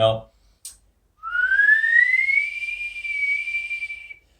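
A tin flute sounds a single high note that slides upward and then holds steady for about three seconds, clear and fairly loud, after a couple of short clicks.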